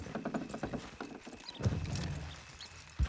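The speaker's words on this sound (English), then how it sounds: "You gonna pull that horse or I gotta give it a kick?" Horse hooves clip-clopping in Red Dead Redemption 2 as the animal pulls a load, a steady rhythmic trot with a couple of heavier thuds and a brief whinny-like sound, fairly close.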